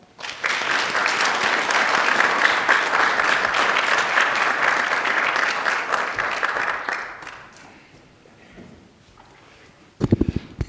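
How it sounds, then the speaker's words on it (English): An audience at a public health ethics forum gives sustained, loud applause for several seconds. It then fades into quiet room tone before a speaker's voice starts near the end. "would you all please give them another applause?"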